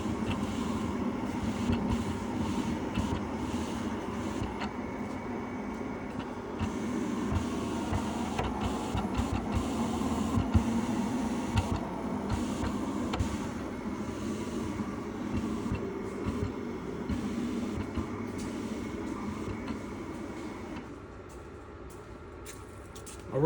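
A Graphtec cutting plotter contour cuts an Epson print, producing a steady mechanical whir with rapid carriage movements and clicking that continue for the whole stretch, quieting slightly near the end.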